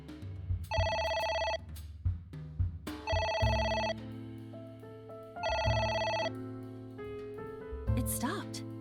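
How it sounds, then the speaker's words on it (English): Repeated electronic telephone ringing in AI: The Somnium Files, three long bursts of bright ring tone separated by pauses, with game music tones and brief voices underneath. "It won't stop ringing."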